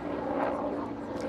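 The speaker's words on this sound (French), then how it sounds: "c'est un avion qui est juste en dessous." An airplane flying overhead gives a faint, steady broadband roar that holds evenly for a moment and then fades slightly.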